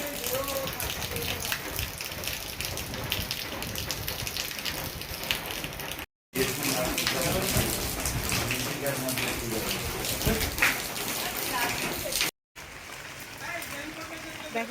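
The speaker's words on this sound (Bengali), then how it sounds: "পুরো নিম্নচাপ অনেক জোরে বৃষ্টি হচ্ছে" Heavy, steady monsoon-depression rain roars in a dense wash of noise, continuous and close, with voices talking underneath, in the Sundarbans.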